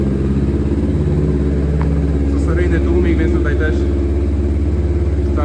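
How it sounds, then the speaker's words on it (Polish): A twin-cylinder 2010 Kawasaki Ninja 250 motorcycle engine runs with a steady, throbbing mid-pitched idle, loud and close, continuing without pause for the whole stretch. "Dwucylindrowa jednostka."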